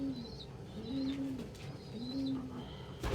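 Pigeons coo in a loft: soft, low, rolling coos repeat at a steady pace, close and clear, with a faint chirp near the end and no talk.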